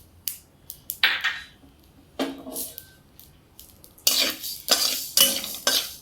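Coriander, cumin and mustard seeds dry-roasting together in a pan, stirred in scattered scrapes and clinks, then a denser run of scraping toward the end, close and clear with no talk.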